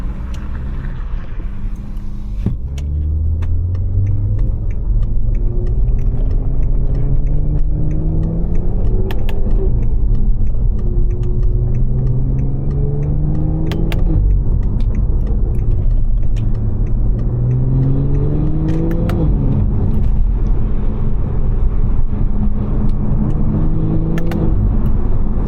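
Close interior view of a stage 2 540 car driving on a rain-soaked road with traction control off, its engine rumbling steadily and rising in repeated revving sweeps as it accelerates through gears, with a continuous whir underneath.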